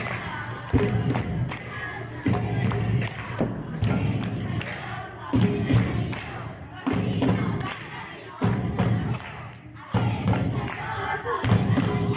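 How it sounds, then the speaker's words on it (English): Rhythmic group clapping and stamping at an English theatre workshop, steady repeated thuds in regular bursts with a lively crowd cheering between them. "now it's time to clap your hands"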